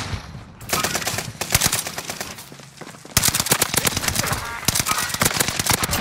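Rapid automatic gunfire in a video game shootout, loud dense bursts of close shots starting after a short pause, breaking off briefly, then resuming hard, with faint voices under it.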